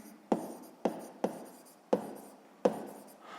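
Chalk or pen tapping out a math equation on a board: five sharp, distinct strokes in an uneven rhythm, each followed by a short scratchy trail, close and fairly quiet with no talking.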